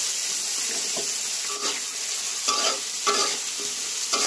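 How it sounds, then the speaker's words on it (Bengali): Fish curry with green chillies and peas sautéing in a pan, a continuous bright sizzle with occasional stirring scrapes and clatters breaking through at irregular intervals. "2 মিনিট এটাকে কষিয়ে নেব।"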